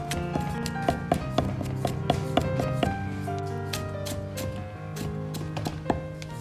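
Two garlic cloves are smashed and minced with a kitchen knife on a board, a run of quick irregular chopping taps over steady background music.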